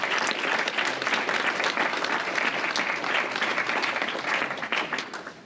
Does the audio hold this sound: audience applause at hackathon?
yes